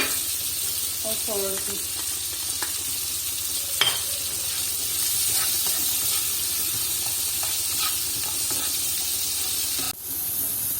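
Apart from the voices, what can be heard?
vegetables stir-frying on high heat with chili flakes and salt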